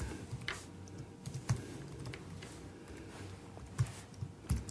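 Computer keyboard keys tapped during photo editing software work, a few quiet scattered clicks with soft isolated strikes over low background hum, no voices.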